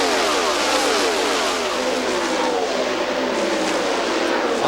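IndyCar engine at the 1998 True Value 500, heard as a loud, continuous high-pitched scream that eases slightly as the driver lifts off the throttle approaching a corner.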